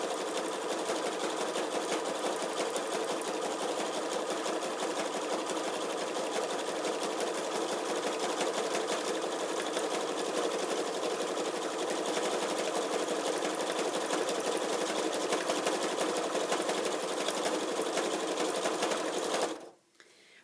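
A sewing machine stitches fabric strips together in pairs, running steadily at a fast, even rhythm for about nineteen seconds, close by, then stops abruptly.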